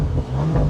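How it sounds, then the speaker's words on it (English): An Audi RS4 engine gives a brief, loud, close rev, a rich rumbling burst that swells and holds for under a second. "Yeah, the engine sounds really good."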